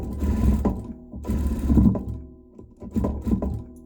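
A sewing machine stitches a hem in three loud, close bursts of rapid mechanical whirring, separated by short pauses, with no talking.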